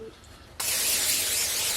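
Cooking oil spray hisses onto a sheet pan in one steady, close burst that starts abruptly partway through and continues to the end.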